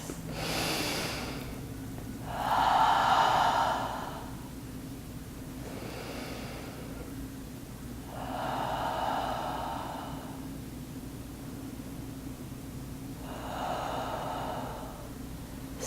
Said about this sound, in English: Take a few breaths.